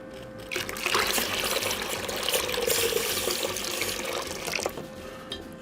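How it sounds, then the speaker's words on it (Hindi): Water poured steadily into a homemade 12-volt DC water heater, a continuous splashing, trickling rush that starts abruptly, holds for several seconds, then tapers off, close and fairly loud with no talking. "पानी और डालते इसमें।"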